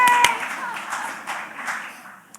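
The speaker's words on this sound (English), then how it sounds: "You can clap if you'd like." A few audience members clap at a candidates forum, light scattered hand claps fading out over a couple of seconds.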